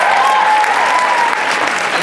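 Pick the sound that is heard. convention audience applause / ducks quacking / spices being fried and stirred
convention audience applause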